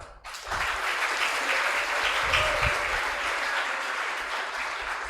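Sustained applause from a seminar audience at a BNN and Tebu Ireng pesantren national event, a dense, steady wash of clapping that starts abruptly and holds loud throughout without talk.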